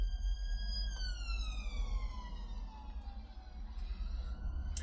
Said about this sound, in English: I swear there's not been this many sirens since before I started filming the video.